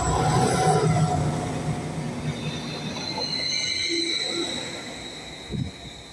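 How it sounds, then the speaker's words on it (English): A Greater Anglia class 755 train on a Norwich to Sheringham service passes and fades away, a loud rail rumble with squealing wheel tones gradually receding, ending with a brief knock. "755 407 on a Greater Anglia service to Sheringham from Norwich."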